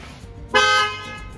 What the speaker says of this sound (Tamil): வண்டியோட ஹாரன் வந்து சேஞ்ச் பண்ணியிருக்காங்க.